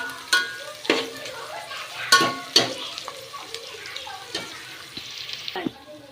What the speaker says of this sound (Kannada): ಇವಾಗ ಈರುಳ್ಳಿ ಫ್ರೈ ಆಗ್ತಾಯಿದೆ.